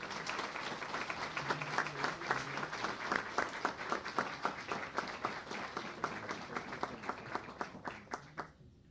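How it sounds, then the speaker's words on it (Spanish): Warm applause from an audience at a Senate forum greets a Paralympic champion, a steady patter of many hands at moderate distance that swells and then tapers off toward the end. "a quien pido un aplauso muy cariñoso"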